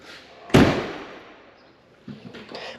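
A 1967 Ford Mustang coupe door slams shut with one sharp, loud thud, followed by quieter handling sounds and a softer second knock near the end.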